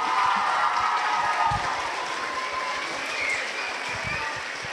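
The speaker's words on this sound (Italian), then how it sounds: "Facciamo un applauso ragazzi." A school audience of students applauding at a 25 April Liberation Day commemoration, a steady, fairly loud wash of clapping from a crowd with low thumps and rumble underneath.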